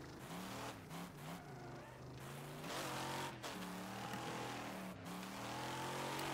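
A powerful car engine revs hard and steadily while drifting in the racing game Wreckfest, sounding as a loud, continuous roar that rises and falls in pitch with throttle changes.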